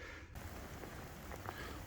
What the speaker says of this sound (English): It's just starting to rain lightly.